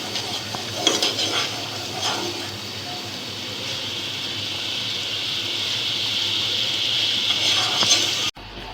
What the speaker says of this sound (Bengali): ক্যারামেলটা অনবরত নাড়তে হবে।